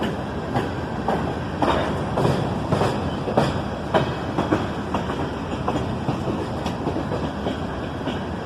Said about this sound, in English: A single SD42 leads this slow Norfolk Southern train southbound.